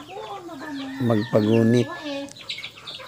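Live chickens cluck and squawk nearby in a few short bursts, with a person speaking briefly over them.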